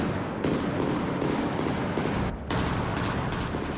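Gunfire and mortar fire strike a presidential residence during an attempted coup, a dense, continuous barrage of overlapping shots and blasts with a brief lull near the end before the volley resumes.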